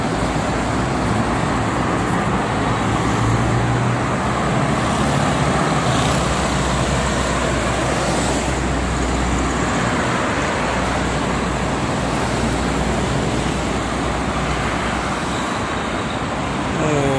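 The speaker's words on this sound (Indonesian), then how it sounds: "Ada bis-bis pariwisata, ada Starbus juga." Steady, dense traffic rumble on the Jakarta-Cikampek toll road, with tourist buses and other vehicles passing continuously at close range, a loud unbroken roar with no talking.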